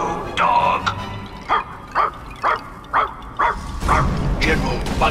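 Robot dog from the Puppeteer video game giving a run of about seven short, evenly spaced electronic barks, loud and close, over a steady game backdrop.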